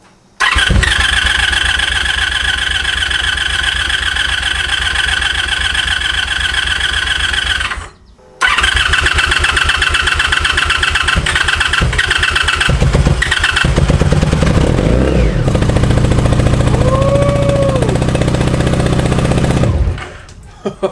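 A 1984 Honda Sabre VF1100 V65 motorcycle on full choke cranks with a rapid chugging starter rhythm, pauses briefly, then cranks again for a long stretch before stopping, loud and close.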